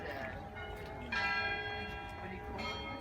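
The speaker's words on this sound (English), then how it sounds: "It's one of their anthems the bells are playing." Church bells in St Petersburg, near the Peter and Paul Fortress, ring out an anthem melody with sustained overlapping tones and fresh strikes, heard outdoors under faint background chatter.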